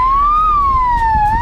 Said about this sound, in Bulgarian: Чувам линейката.